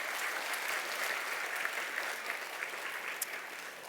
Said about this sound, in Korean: 우리 하나님 앞에 영광 박수 드리겠습니다.